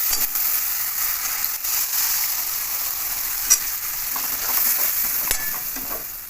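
Jackfruit masala fries in a pan with a tomato and chili sauce, thinned with water, added to it, making a continuous close sizzle with an occasional sharp clink of a utensil.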